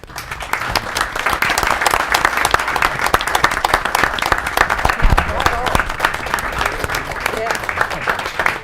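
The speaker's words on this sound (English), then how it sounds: "So a round of applause for them." A room full of people at a City of Darien council meeting applauds three students, steady, close clapping with sharp individual claps sustained for about eight seconds.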